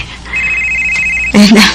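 Mobile phone ringing with a steady electronic tone that holds for about a second, then gives way to a louder burst of voices or sound.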